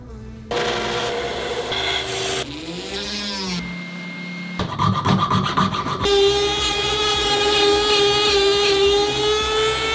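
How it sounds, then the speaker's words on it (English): A small Dremel rotary tool whines loudly and steadily, its pitch rising and falling as it spins up, with a gritty rubbing as the flap disc sands a bow tip overlay. "this little Dremel tool, and it works really good with like a flap disc on it to sand it down"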